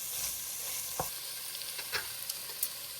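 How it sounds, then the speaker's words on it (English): Lamb curry with spices being stirred in a hot pan, a soft steady sizzle broken by several faint scraping stirs of the utensil, close and quiet with no voices. "You have to keep stirring it so it doesn't stick to the bottom of the pan."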